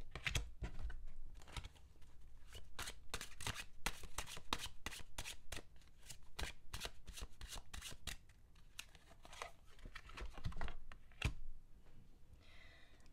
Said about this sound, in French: je retourne momentanément cette carte